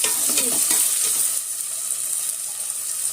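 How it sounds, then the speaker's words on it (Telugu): Tomatoes tipped into a pan of frying onions set off a loud, steady sizzle, with stirring scrapes early on that settle into an even hiss; no one speaks. "ఇప్పుడు టమాటాలు వేస్తున్నాను"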